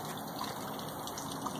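Water from a garden hose on a tap gushes steadily through a gold sluice, a soft continuous rushing and trickling flow with no talking over it.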